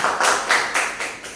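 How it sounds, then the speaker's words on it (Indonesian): A few quick, sharp claps in a steady rhythm as a classroom applauds, brief and close, with no talking. "Tepuk tangan."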